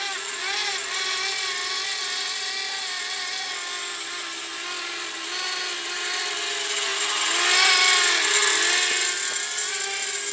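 A Blade Inductrix Switch Air R/C airplane in flight gives a steady, high-pitched electric motor and propeller whine that holds a constant tone and swells louder near the end, with no talking over it.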